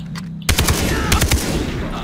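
Rapid bursts of gunfire in the game Far Cry 3, several sharp shots in quick succession, loud and close after a short quiet start.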